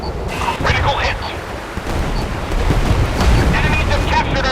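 Naval artillery fires during a warship combat game, heavy booming gunfire rolling continuously under an overlapping voice giving commands.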